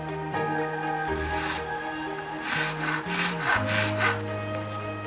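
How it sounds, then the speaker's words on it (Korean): Hand tool scrapes and files a small groove in a handmade eyeglass frame, producing short rasping strokes in quick irregular bursts, close and fairly quiet, with a faint tonal hum in the background. "안경테와 다리를 잇는 작은 홈 하나를 만드는 일도 그의 손을 거쳐야 합니다"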